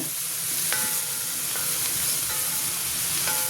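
Food sizzles and crackles steadily in a hot pan, a constant close frying hiss with occasional sharper pops and metallic clinks.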